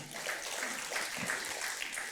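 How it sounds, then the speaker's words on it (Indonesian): A congregation applauds during a Sunday church service, a steady, fairly quiet wash of clapping that runs without a break from start to end. "Tepuk tangan buat firman Tuhan"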